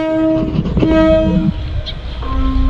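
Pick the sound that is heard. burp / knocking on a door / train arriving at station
train arriving at station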